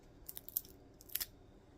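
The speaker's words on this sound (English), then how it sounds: "There's a crunch in your mouth." Homemade keto cheese crackers crunched while eating, a few short crisp bites and chews close to the mouth, quiet with no talking.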